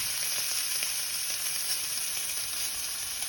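A ribeye steak searing in oil in a hot pan gives a dense, even sizzle, steady and close throughout with no pauses or voices.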